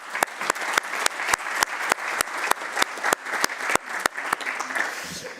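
Audience applause for the panelists at a maritime weather symposium, a steady room-filling patter of many hands with sharper individual claps standing out, sustained for several seconds before thinning near the end.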